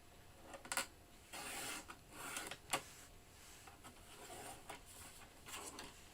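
A paper trimmer slices card stock down to card size, making soft scraping strokes and a few sharper clicks at close range, faint and without speech.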